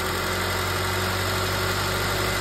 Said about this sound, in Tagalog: kapag nakakabit yung body ground, pakinggan nyo yung makina